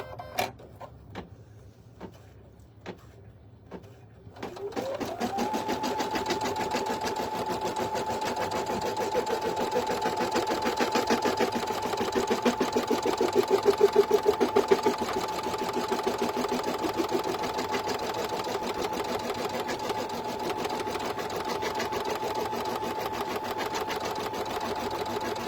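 An embroidery machine sews placement stitches on an in-the-hoop sleep mask: after a few faint clicks it whirs up and runs a steady, loud, rapid needle rhythm that continues unbroken to the end.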